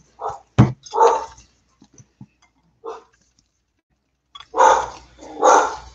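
A dog barks in several loud, close bursts, first a pair of quick barks, then a single bark after a pause, and finally two strong barks near the end, with brief quiet gaps between.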